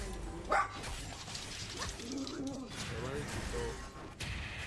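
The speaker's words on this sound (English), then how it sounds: "This dog saw a cat in the yard and tried to scare it away." A small dog barks at a cat in the yard, a sharp yelp standing out early, then fainter yips and whimpers under a quiet indoor background, with someone talking faintly at times.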